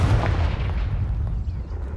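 Confringo fire spell in Hogwarts Legacy, a dense, booming blast with a rumbling crackle that fades out over about two seconds, loud and close with no talking.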